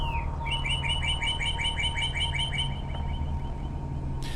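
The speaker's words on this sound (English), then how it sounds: "I wanted to know what the hell the bird sounds were" Birds chirp in a Portal 2 test chamber, a quick rhythmic series of bright tweets repeating for a few seconds over a steady low background hum.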